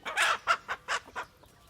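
A hen clucks five times in short, evenly spaced, fairly close calls, then falls quiet.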